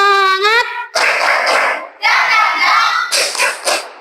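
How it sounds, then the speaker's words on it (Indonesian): A group doing a rhythmic spirit clap at an ice-breaking session, bursts of loud close clapping in short patterned phrases, opening with a sung or called-out voice. "Ayo, tepuk semangat."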